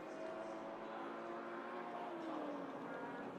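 Engine of a Porsche race car in the Raceroom racing game during a TCR/GT4 race at Hockenheimring, a steady sustained drone holding at moderate level as it crosses the line, with no talk.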